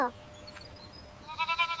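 A goat gives a short wavering bleat near the end, close and clear, after a stretch of quiet with a brief higher cry at the start; no words are spoken.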